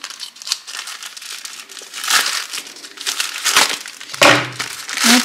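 Crinkly plastic AliExpress parcel being torn open and unwrapped by hand, a close, loud run of crackling and rustling bursts over about five seconds with no speech.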